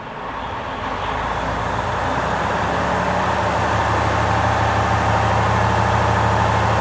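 A Freightliner Cascadia truck's diesel engine is held at roughly 1100 to 1200 RPM to build air pressure, giving a loud, steady, close drone that swells slightly early on, with no talking.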